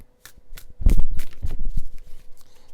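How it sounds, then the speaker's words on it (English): Tarot cards riffled and shuffled by hand in a few quick close bursts, loud and papery, with no talk. "Okay, let's do a little shuffle like this."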